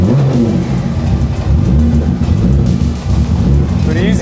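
A 1000-horsepower VQ engine in a Nissan 350Z fires up on a cold start and settles into a loud, lumpy, rumbling idle, heard up close.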